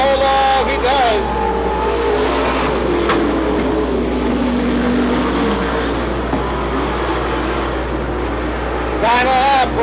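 Stock race cars roar around the oval at a Watsonville weekly racing series event, a steady loud engine drone with cars passing close and revving, under continuous commentary from an announcer.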